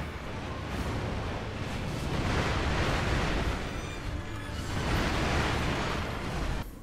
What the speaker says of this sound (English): go for it and spam Firecrackers